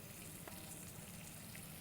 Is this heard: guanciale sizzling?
yes